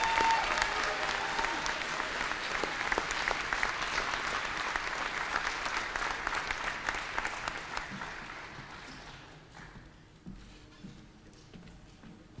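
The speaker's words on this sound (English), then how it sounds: "Let's give them a big round of applause" Graduation commencement audience applauding new graduates, a dense sustained clatter of many hands that stays loud for about eight seconds, then thins and fades into scattered claps.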